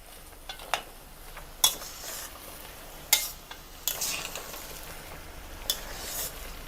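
A spoon stirs onion masala curry in a pan, with about six sharp metallic clanks and scrapes against the pan over a soft, low sizzle.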